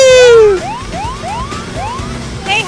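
A loud electronic police car siren in a video game sweeps rapidly up and down in a repeating wail, starting with a long high tone, with no talking.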